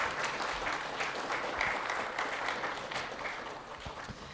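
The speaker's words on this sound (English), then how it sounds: "let's give them a big round of applause." Crowd applause at an outdoor ribbon-cutting for the Parcel 42 affordable housing development on H Street in Washington, steady moderate clapping throughout with scattered sharper claps, fairly distant.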